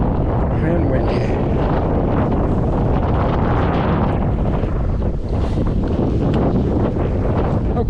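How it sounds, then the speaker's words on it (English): Strong wind buffets the microphone in a constant loud rumble, gusting roughly the whole time with no clear voices. "And windy."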